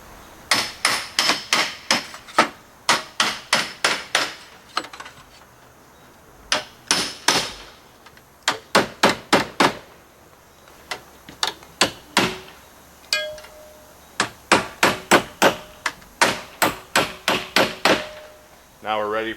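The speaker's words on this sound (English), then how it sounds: "It's just a chisel basically." A hammer drives a chisel while slate is fitted on a brick chimney with a soldered copper apron. Sharp, loud metallic blows land close by in quick bursts of several strikes, with short pauses between the bursts.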